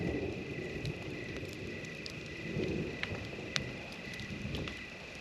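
Steady rain falls at a campsite during a deer-season opener, a constant close hiss with low rumbling thunder swelling beneath it and occasional sharper drips or pops.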